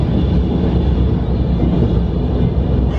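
A River Line train rolls along its rails in New Jersey, a steady, close, low rumble and rolling roar from inside the car that holds an even level throughout, with no talking.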